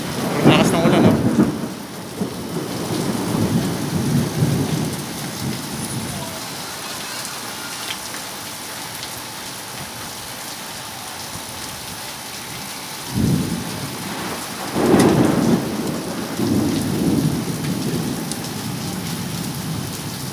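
Heavy rain hisses steadily at a street food stall while thunder rumbles loudly twice, once at the start and again near the end, rolling out slowly each time.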